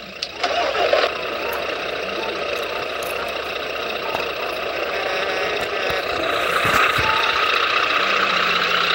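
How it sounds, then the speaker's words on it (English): A truck engine cranks and catches near the start, then settles into a steady, loud mid-pitched idle that continues throughout. "turn on your engine"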